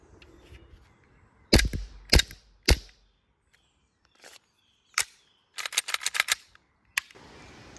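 A WE EU17 Glock gas blowback airsoft pistol fires a string of sharp, snappy cracks, three spaced shots followed by quicker bursts of clicks and pops, close and dry with quiet gaps between.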